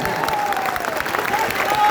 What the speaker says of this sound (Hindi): अब बजा लो ताली जितना बजाना है।